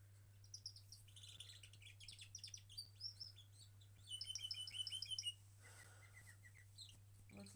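Bubble, a pet bird, sings a soft, quiet run of bright chirps and whistled trills in short bursts, with a denser flurry midway and a low steady hum underneath.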